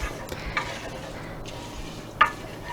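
Rice pudding stirred in a pot over low heat, soft scraping swirls with a faint simmer beneath and a couple of sharper knocks of the spoon on the pot, close and moderately quiet, no talking.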